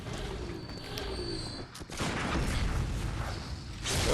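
Enemy gunfire in Bloodborne: The Old Hunters, scattered shots and booming blasts amid rumbling combat noise, moderately loud with a sharp crack near the middle.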